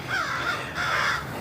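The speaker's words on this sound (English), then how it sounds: "Yeah, the crows see me doing stuff." Crows cawing outdoors near a backyard fig tree, two drawn-out harsh caws in quick succession, moderately close and clear with no talking over them.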